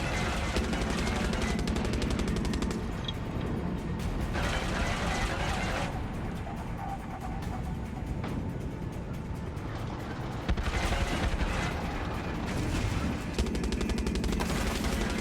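Gunfire and tank cannon blasts in the video game Far Cry 6, a loud, continuous barrage of shots and booms over rumbling vehicle noise.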